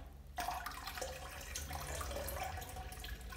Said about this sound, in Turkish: Şimdi suya biraz daha metilen mavisi dökeceğim